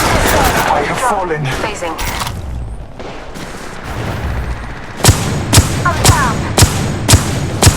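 Pistol shots in Apex Legends, a pistols-only match: a chaotic firefight at first, then a run of sharp, evenly spaced single shots close by, with in-game voice lines talking over the action.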